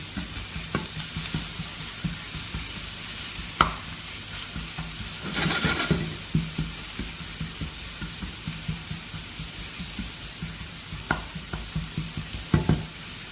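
Ghee crackling in a pan for light frying in a turmeric fish curry, with a steady sizzle broken by frequent close stirring scrapes and clinks, one louder burst of frying midway.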